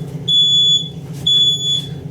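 Two piercing, high-pitched smoke alarm beeps, each about half a second long, over a low background hum.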